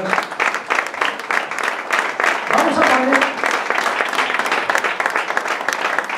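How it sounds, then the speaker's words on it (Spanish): Applause for the Russian ambassador at a talk on extreme solo sailing, a steady crowd clapping that lasts throughout, with a voice speaking over it. "pido un aplauso enorme para él"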